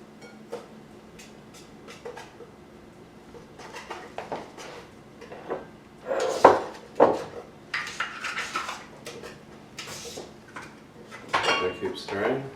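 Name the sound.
stirring a pot with thyme and cheese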